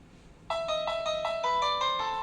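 An intelligent doorbell plays its old ringtone, a clear electronic chime of bright repeated tones in a short melody starting after a brief quiet moment, close and alone with no talking.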